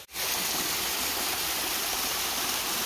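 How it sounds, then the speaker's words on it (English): Small waterfall on the Appalachian Trail, a steady, full rush of falling water that starts abruptly and holds constant and close, with no voices. "it's really nice here because we've got us a little waterfall"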